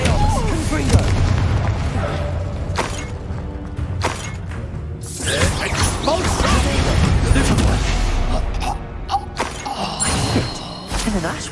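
Spell blasts in the Hogwarts Legacy video game: booming explosions and crashing impacts follow one after another over a rumbling game mix, loud and dense, with a few mechanical clanks.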